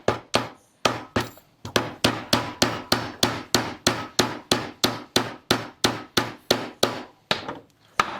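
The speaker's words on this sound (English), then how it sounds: "you can tap it on lightly with a hammer" A hammer lightly tapping a bogey wheel into place on a G5 rear suspension, a close, steady series of about twenty sharp metallic knocks in even rhythm, with a brief pause near the start.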